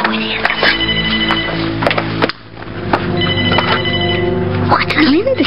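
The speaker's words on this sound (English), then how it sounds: "Oh, there's the phone." A telephone bell rings in repeated bursts with short gaps between them, loud and close, while a person talks over and around the rings.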